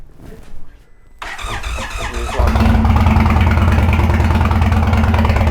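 A custom Indian Sport Chief motorcycle engine cranks briefly, catches, then settles into a loud, steady, throaty idle with a low rumble, close by.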